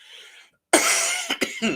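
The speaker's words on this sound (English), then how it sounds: "I can't stop coughing." A close, harsh cough bursts out, followed by a couple of shorter rough coughs in quick succession.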